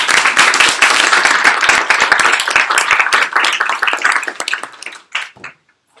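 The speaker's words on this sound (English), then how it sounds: "Well, let's give a round of applause." Audience applause at a talk about a water system, a dense round of many hands clapping that holds steady, then thins into scattered claps and dies away near the end.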